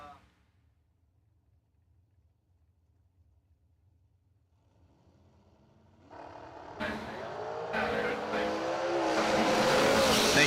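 Drag racing door cars at an annual summer fling event: near silence for six seconds, then a loud engine roar and tire noise swell in and build steadily to the end.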